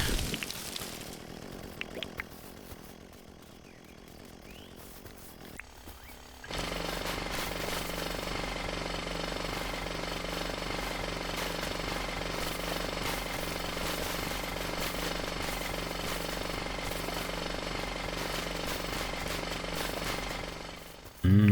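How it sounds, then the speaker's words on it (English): Chainsaw in the video game Dinkum cutting through a termite nest, a loud, steady buzzing drone that runs continuously for about fifteen seconds after a quieter stretch, with no voices. "The chainsaw really just does everything."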